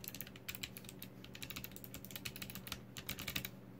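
Quick, close clicky keystrokes on an Anidees Prismatic wireless mechanical RGB keyboard with Kailh white switches, a busy irregular patter of sharp taps running throughout at modest volume.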